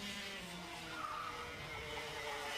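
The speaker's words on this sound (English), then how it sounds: "Oh, and a spin there for Owen Johns" Tire skid from a race car spinning on a circuit during a Federation Cup drift round at Hooton Park, a continuous loud screech with engine noise running steadily throughout.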